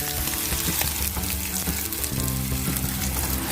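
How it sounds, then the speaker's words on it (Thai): Smoked sausages fry in oil over low heat, giving a steady, close sizzle with crackling pops throughout and no voices. "เราก็ใช้ไฟอ่อนนะคะ ทอดให้เหลืองๆอย่างเงี้ยนะคะ"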